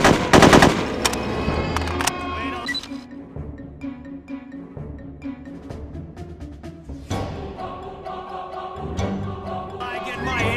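Assault rifle fire in the shooter game No One Lives Forever 2, with several loud bursts of rapid automatic shots separated by pauses and quieter stretches of game sound between them.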